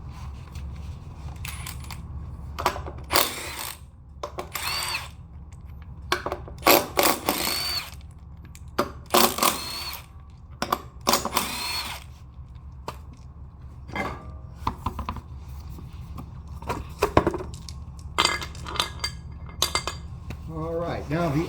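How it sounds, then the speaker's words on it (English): Metal clinks and clanks ring out in scattered bursts over a low hum as a wheel is pulled off a kayak trailer during bearing maintenance, heard close up without talk. "Alrighty, let me pull this wheel off here."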